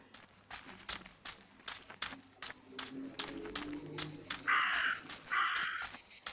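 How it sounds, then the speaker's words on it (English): A raven in the Martha Is Dead game caws twice, harsh and fairly close, after a run of steady footsteps and light rustling with no talking. "it seemed as if the raven wanted to bring the little bird back to life"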